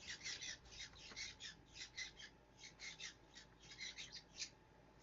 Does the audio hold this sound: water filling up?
no